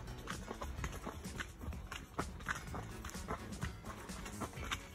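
Two horses running and playing loose, hooves clip-clopping in a busy, uneven rhythm over a steady outdoor background, fairly close and moderately loud throughout.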